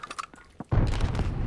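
Sharp gunshots crack out from blind firing over cover in the World War II shooter Call of Duty: Vanguard, a few scattered reports giving way to a sustained, dense burst of fire.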